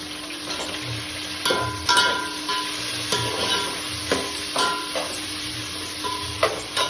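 Green chillies tossed into onions frying in a pan, a steady close sizzle broken by sharp clinks and scrapes of stirring at irregular intervals.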